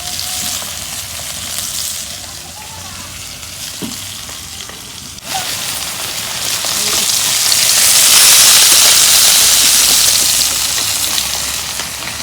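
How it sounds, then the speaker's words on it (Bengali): Turmeric-, salt- and chili-spiced fish frying in hot oil in a pan, a loud continuous sizzle that swells into a strong hissing roar partway through and stays close and dense. "মাছ ভাজা হয়েছে, মাছগুলো এখন নামি নিই।"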